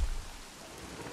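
Rain falling in the video game Jurassic World Evolution, a soft, steady patter and hiss at low volume, opening with a brief low thump and no voices.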